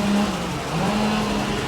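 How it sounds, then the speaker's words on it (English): A car engine idles steadily under an open bonnet while its lower auxiliary belt squeaks, giving a continuous close whine over the motor's hum. "The lower belt down there is squeaking."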